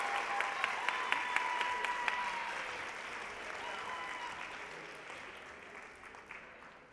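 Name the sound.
audience applauding at senior awards night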